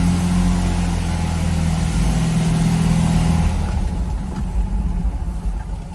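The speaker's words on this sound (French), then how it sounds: "Et c'est parti pour la petite Fiat 500." A small 1968 Fiat 500 pulls away, its little engine humming and revving steadily near at hand, then easing off as it moves away.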